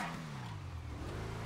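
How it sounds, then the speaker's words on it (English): Car doing a tire burnout in GTA V, a short close engine roar with a falling pitch over a rough squealing hiss. "Just a little burnout."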